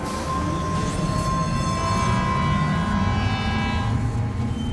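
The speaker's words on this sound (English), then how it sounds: "let's get on this monorail ourselves" A monorail ride in the video game Death Stranding 2, with a steady loud rumble of rolling rail cars and a sustained tonal whine running throughout, no voices.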